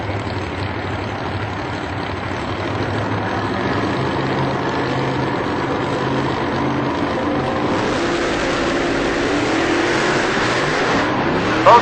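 Two street-legal drag race cars make a pass at a drag strip, their engines giving a loud, sustained roar that builds and spreads as they run. The roar fills the scene with no break.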